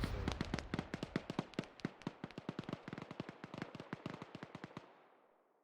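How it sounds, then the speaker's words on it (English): Artillery in the Arma 3 military game, a fast rapid run of sharp crackling bangs over several seconds, each burst close and punchy, fading into a trailing echo at the end. "There's artillery here"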